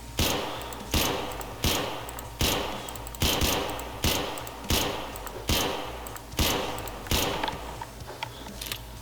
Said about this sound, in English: let's fire a couple rounds off, and this thing's got like no recoil onto it